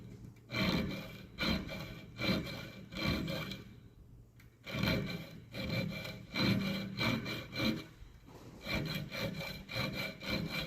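A hand file cuts a groove in a metal bolt, making repeated rasping strokes in a steady back-and-forth rhythm, close and fairly loud, with brief pauses between bursts and no talking.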